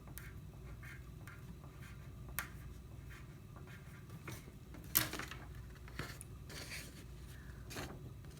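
Pen strokes of handwriting the date on paper, soft scratchy scribbles in irregular bursts with a few sharper taps, quiet and close with no talking.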